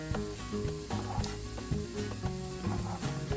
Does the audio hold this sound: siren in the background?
no